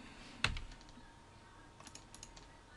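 Computer keyboard keys pressed during circuit schematic editing: one sharp, close click stands out, followed by a few lighter, fainter taps in a quiet room.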